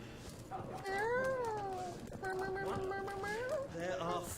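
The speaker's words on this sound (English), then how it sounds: "Cat." A cat meows several times in a row, drawn-out and tonal, the calls rising and falling close by over a quiet, noisy background.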